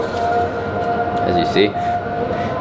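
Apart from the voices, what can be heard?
call to prayer from mosque next door in Jakarta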